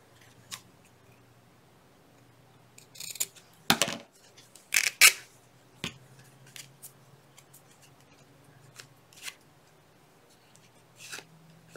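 Scissors snipping through book paper or fabric at a crafting table, a handful of crisp close cuts bunched in the middle with scattered lighter snips around them, no talking.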